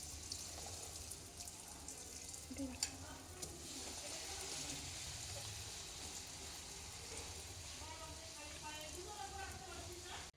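Steady sizzling of luchi frying in hot oil fills the clip, with occasional clinks and faint background voices.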